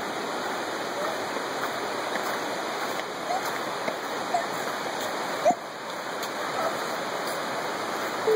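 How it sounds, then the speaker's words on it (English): Stream water flowing steadily along a hiking trail in the Rockport area of the Poconos, Pennsylvania, a broad constant rush close by with a few brief knocks and clicks over it. "Look at the water, Ruby."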